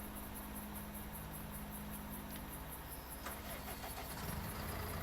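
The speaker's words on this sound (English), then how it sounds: "Leave the engine running." A vehicle engine idles in a farming game with the Precision Farming add-on, a faint steady low hum running alone under soft background ambience, with a few light clicks near the end and no talking.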